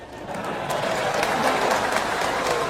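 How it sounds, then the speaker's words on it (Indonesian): A crowd at an Indonesian religious lecture by Ustadz Abdul Somad bursts into applause, a dense wash of clapping that stays broad, even and sustained throughout. "Jangan tepuk tangan dulu."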